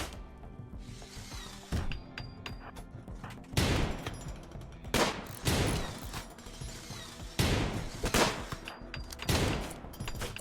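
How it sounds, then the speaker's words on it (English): Raiders firing guns in the colony-management video game RimWorld: repeated sharp gunshot bursts at irregular intervals over a rumbling battle backdrop, with no talking. "already shooting at me"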